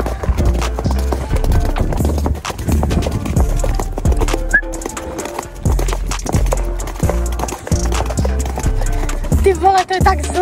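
Horse hooves clip-clopping during a ride, a steady, loud rhythmic beat of hoofbeats close to the rider throughout, with people talking over it.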